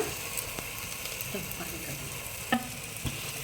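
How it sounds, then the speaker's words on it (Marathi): Chopped carrot, bottle gourd and eggplant being stirred into a frying pan with chilli powder, a steady low sizzle with scraping stir strokes and a couple of sharper knocks from the spoon against the pan. "यामध्ये मी या चिरलेल्या भाज्या माझं गाजर आपली दुधी भोपळा आणि वांगी हे मी याच्यामध्ये मिक्स करत आहे"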